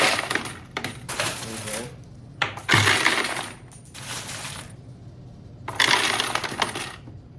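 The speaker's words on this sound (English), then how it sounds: "Let's get some quarters in here." Quarters poured and dropped into the empty hopper of an American Changer red-display change machine, a metallic jingle arriving in several bursts of clattering coins with short pauses between, close and fairly loud.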